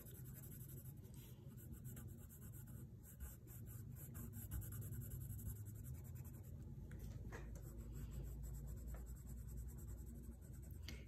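Colored pencil shading on paper in a steady, continuous scratchy rubbing of close strokes, sustained throughout with no talking.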